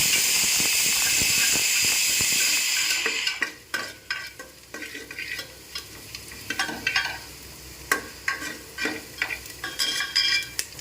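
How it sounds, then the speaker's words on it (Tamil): Ingredients for puli kulambu, a Tamil tamarind curry with karunai kizhangu (elephant foot yam), sizzle and fry in a pan. A steady loud hiss at the start gives way to repeated stirring scrapes and crackles, with no voices. "நல்லா இந்த மாதிரி வதக்குங்க பார்த்திங்க பார்க்குறப்ப கலர் சேஞ்ச் ஆகும்"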